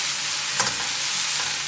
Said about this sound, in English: I'm just going to stir this and just kind of gently cook it for just a minute or 2